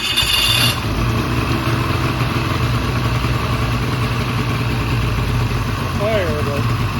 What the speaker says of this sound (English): Give it a little choke over there. And it's gonna fire off